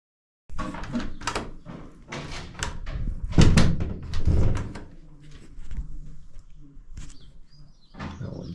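A door is worked on while fixing its handle in a bungalow, with a series of close, sharp clunks, rattles and scraping knocks in irregular bursts, separated by brief quieter gaps.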